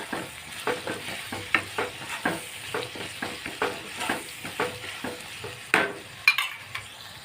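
Homemade garam masala sautéing in a pan on the stove, a steady low sizzle punctuated by regular scraping stir strokes roughly every half second, with a couple of sharper utensil clinks near the end.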